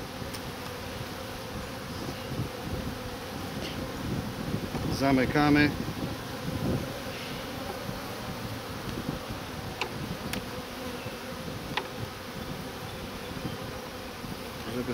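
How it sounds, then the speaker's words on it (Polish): Honeybees buzzing around an open hive during an inspection, a steady low drone with a brief louder swell near the middle, heard under a speaking voice. "tylko pszczoły siedzą."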